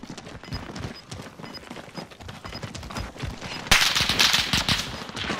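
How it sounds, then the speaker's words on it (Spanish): Rapid bursts of automatic gunfire from a battle royale video game, steady crackling shots running throughout and swelling into a louder, denser stretch near the end. "Vergas, vergas, están disparando."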